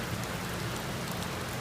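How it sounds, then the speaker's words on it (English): Heavy rain falls in Florida during spring break, a dense, even hiss of drops that runs steadily throughout at moderate level, with no voices. "It's raining a lot."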